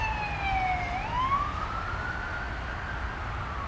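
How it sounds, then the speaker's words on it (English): Ambulance siren on a New York City street in Brooklyn, a steady wailing tone that dips and then climbs into a long sweeping wail, fairly distant and sustained over low traffic rumble. "What is that there? Is that an ambulance?"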